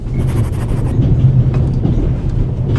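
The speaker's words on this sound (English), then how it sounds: "The noise on this train is driving me crazy." Continuous rumbling train noise from The Raven: Legacy of a Master Thief video game, a loud, steady interior rattle and rumble filling the whole stretch with no speech over it.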